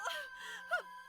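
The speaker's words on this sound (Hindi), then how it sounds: "लड़की के रोने की आवाज?" A girl cries and wails for help in a forest. Two strained, tonal wailing bursts rise and fall, fairly close and loud against an otherwise quiet background.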